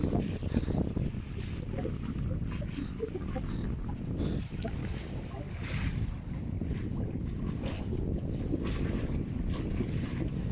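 Strong wind gusts buffet and roar across the open air, with sloshing water beneath, loud and continuous.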